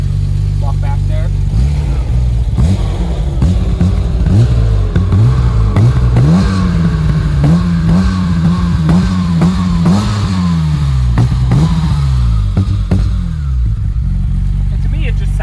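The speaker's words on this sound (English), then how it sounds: "it just sounds like a motorsport engine now" A 1991 M5 sports sedan engine idles with a deep rumble, then revs up and holds a higher pitch for several seconds before settling back down.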